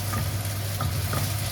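Sliced onions sauté in a pan for a Kerala kanji, giving a continuous dense sizzle with a low hum beneath and faint stirring scrapes.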